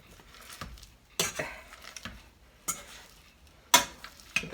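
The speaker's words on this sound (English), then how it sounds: "but I prefer to use a masher." Hand masher working through cooked potatoes in a pot, a sequence of irregular knocks and clacks against the pot with soft squishing in between, close and fairly loud.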